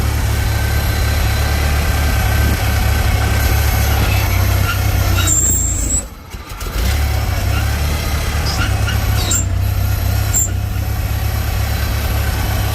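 Farmall Cub tractor idling loudly and steadily up close while its hydraulic lift raises and lowers, with a brief dip in the engine note midway and a few faint clicks.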